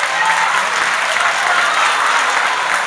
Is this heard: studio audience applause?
yes